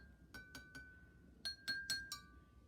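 A pencil taps a plastic glass seven times, light ringing clinks with a clear pitch, three spaced taps and then four quicker ones, close and quiet with no speech.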